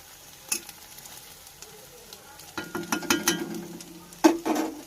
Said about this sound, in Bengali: 2 মিনিটের মতো ভেজে নেব